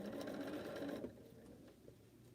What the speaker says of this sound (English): It just takes a little time and patience to sew curved seams